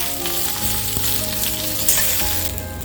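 Potatoes fry in a pan for a simple potato stir-fry, with a loud continuous sizzle close by and occasional scraping as they are stirred, and no voices.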